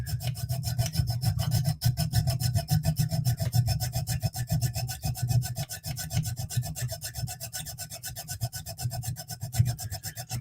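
A saw rasps steadily back and forth through wood in fast, even strokes, continuous and close-up for the whole stretch.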